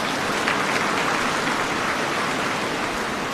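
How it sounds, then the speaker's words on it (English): An audience at a summit of African heads of state breaks into steady, dense applause that fills the space evenly with no voices over it. "I think she deserves a second round of applause"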